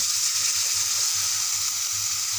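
Boiled cowpea pods hitting a pan of hot spiced oil, a loud, close, continuous sizzle with a soft rhythmic stirring pulse beneath it and no talking.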